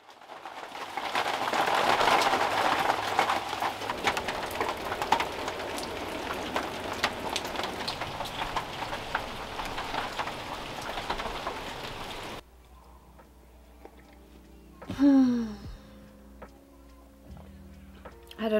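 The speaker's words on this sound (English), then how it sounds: "It is a rainy day." Steady rain falls outside on a rainy morning, a dense even patter with scattered drips that fills the first two-thirds and then cuts to a quieter room with a brief nearby sound.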